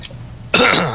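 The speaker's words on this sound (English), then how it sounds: "Sorry, I just have a bad cough." A single harsh cough or throat-clear, close and loud, following a brief quiet moment with faint background noise.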